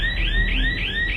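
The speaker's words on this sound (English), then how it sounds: "A motion sensor alarm goes off." A motion sensor alarm blares in a house hallway, a loud electronic tone sweeping upward in repeated rising whoops, about four cycles in quick succession with nothing else heard.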